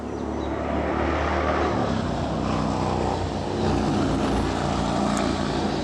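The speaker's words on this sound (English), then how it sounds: "Motorcycle noise." A motorcycle passes by somewhere in southern Pennsylvania, its engine a continuous broad drone that swells slightly and holds without any speech.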